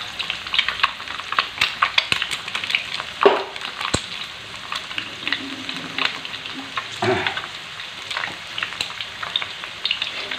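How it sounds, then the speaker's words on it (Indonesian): Egg frying in a pan with jengkol for fried rice: a steady close crackle and sizzle of oil with occasional scraping stirs and clinks, no talk. "Ini telurnya nanti kita goreng sampai agak kering"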